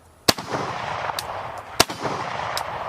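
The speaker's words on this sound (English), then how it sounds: "Let's run some rounds down range and see if I can get a feel for how this AK is rocking." Two sharp, loud AK-47 rifle shots are fired down range about a second and a half apart, each a sudden crack trailing into an outdoor echo, with no voices.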